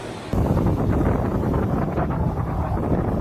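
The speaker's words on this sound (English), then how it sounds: "It was getting pretty windy on the ocean side" Strong wind gusts on the ocean side near a Sydney beach buffet the microphone, producing a loud, continuous low roar that starts abruptly and persists with no voices.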